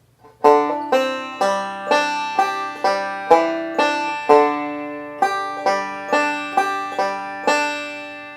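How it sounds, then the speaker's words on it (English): A banjo plays a double square roll C lick, a steady run of bright, plucked notes with sharp attacks and ringing overtones, close and alone with no voice over it. "this is a standard double square roll C lick that we use a lot in the breaks to our singing songs"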